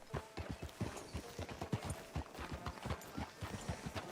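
Horse hooves in the video game Red Dead Redemption 2 clop in a steady, close galloping rhythm, loud and continuous with no talk over them.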